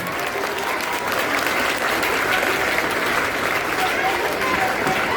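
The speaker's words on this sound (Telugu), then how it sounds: "మీ విద్యార్థులందరూ కూడా ఈ వేదికపై నుంచి గట్టిగా చప్పట్లు కొట్టి ఆయనకు స్వాగతం పలుకుతారని" Students applaud to welcome a guest at a school parent-teacher meeting, a steady, dense round of clapping from a large crowd that holds at the same loudness throughout, with some voices mixed in.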